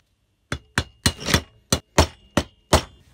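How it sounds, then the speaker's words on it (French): A hammer strikes a center punch about eight times, marking hole positions on a Stihl MS660 93.5cc chainsaw cylinder, giving sharp, loud metallic clanks spaced irregularly across a few seconds in a quiet workshop. "ce qu'il faut faire, c'est de marquer l'emplacement aux quatre coins en poinçonnant"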